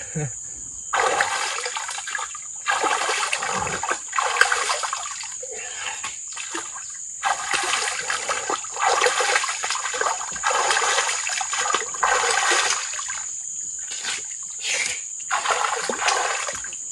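Water in a river rushes and splashes steadily, near and fairly loud, with surging, gurgling bursts and a faint high hiss running through.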